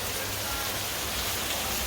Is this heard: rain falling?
yes